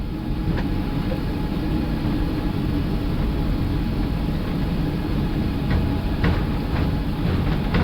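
Inside an Etihad Airbus A380 flight deck at Abu Dhabi, the engines spool at takeoff thrust during the takeoff roll. A dense, steady roar is broken by faint clicks and rattles.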